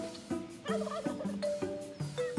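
A flock of wild turkeys gobbling close by at a door, several rapid overlapping gobbles and yelps in quick succession.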